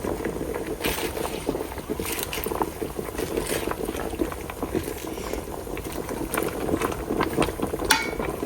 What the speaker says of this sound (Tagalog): pakuluan lang natin ang spinach ng couple of minutes